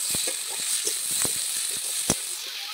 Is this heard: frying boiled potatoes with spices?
yes